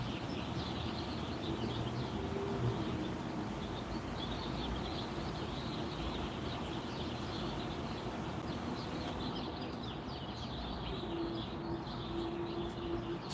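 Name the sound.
birds singing outdoors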